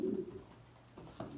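Janssen racing pigeons cooing inside a loft, a low soft coo near the start followed by a couple of quieter murmurs, faint and close with no talking.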